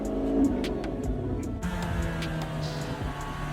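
A muscle car, one of a Challenger, Camaro or Mustang, revving at night, its engine a deep grumbling drone that climbs and then settles into a steady idle, close by with faint ticking sounds around it.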